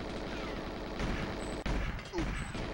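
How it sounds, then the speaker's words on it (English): Enemy gunfire in the N64 video game GoldenEye, a dense continuous rattle of shots with a couple of sharp impacts, under constant game ambience. "Man, that guy was shooting nonstop like Rambo."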